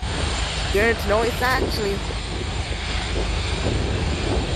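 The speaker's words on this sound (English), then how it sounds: "here comes an EasyJet" An EasyJet Airbus A320 jet airliner taxis with a steady, continuous engine roar that holds throughout, while someone talks over it briefly near the start.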